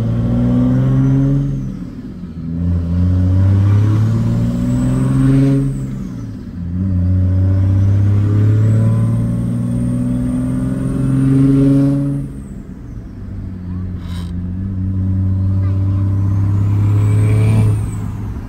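A truck with a G56 manual transmission rolls by several times, its loud engine rising and falling in pitch with each pass, the whine of the drivetrain sweeping up and down, no talking.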